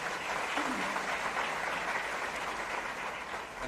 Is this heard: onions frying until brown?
no